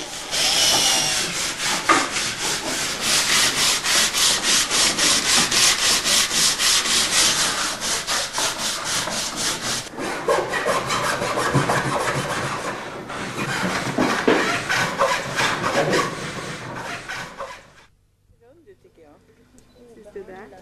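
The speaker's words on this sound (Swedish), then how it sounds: "Hålet för läderlinjen borras och filas där man har mätt ut balanspunkten på skidan." Hand file rasping a hole in a birch wood ski, rapid rhythmic scraping strokes up close for most of the stretch, with speech present; the scraping stops near the end, leaving quiet.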